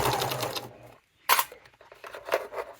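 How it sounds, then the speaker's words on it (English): A sewing machine stitching a fabric wallet runs in a fast whirring burst, stops briefly, then starts again with a sharp clunk and more stitching, all close and clear. "So I'm going to sew"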